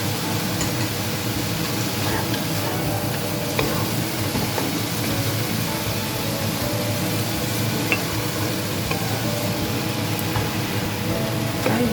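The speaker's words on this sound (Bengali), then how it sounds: "আমি ভালো করে নাড়াচাড়া করে নিয়েছি মোচাটা দিয়ে।" Chopped banana flower with fried lentil dumplings fries and is stirred in a pan for a Bengali vegetarian dish, giving a constant close sizzle with scattered scraping and clinking of the spoon throughout.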